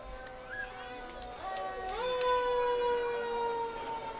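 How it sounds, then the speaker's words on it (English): A fire station siren wails, rising and holding a steady tone, sounding somewhat distant, with faint crowd murmur at a baseball game in the background. "Firehouse right behind us if you're hearing the sirens."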